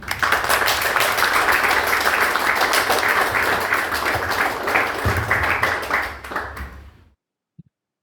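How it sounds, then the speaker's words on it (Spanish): Audience applause for a speaker at a book launch event, a dense, steady wash of many hands clapping for about seven seconds before stopping abruptly, followed by a single faint tap. "Marcelo, un aplauso para él."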